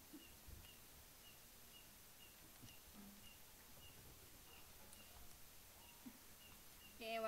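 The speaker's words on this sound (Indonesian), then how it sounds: "Itu bukan suara burung tapi suara jangkrik." Faint crickets chirp in a quiet room, short high chirps repeating at an even pace against low background hiss.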